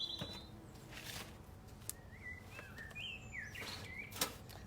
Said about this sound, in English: Birdsong is lovely, isn't it?